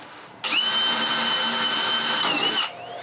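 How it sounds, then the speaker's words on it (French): Power drill boring a hole into a wooden 2x4 between tiles on a firewood shelter frame, one loud close whine that starts abruptly, holds steady for about two seconds and then cuts off. "je perce des trous entre les tuiles, c'est 2x4 du bas"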